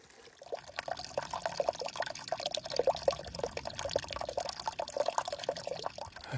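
Water flows steadily in a small wilderness stream in the San Gorgonio Wilderness, a continuous close trickling and burbling that holds an even level throughout with no voices.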